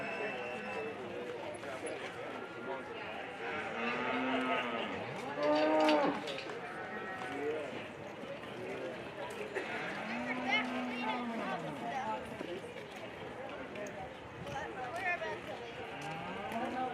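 A steer at a junior livestock show moos several times, long drawn-out lowing calls rising and falling over the arena hubbub, with people talking and other cattle calling in the background.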